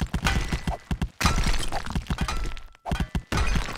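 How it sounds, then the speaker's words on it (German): A pickaxe strikes and breaks stones in the video game 7 Days to Die, a rapid run of loud, close thunks and cracking crunches with brief pauses between bursts. "mit einer Spitzhacke macht das Steine"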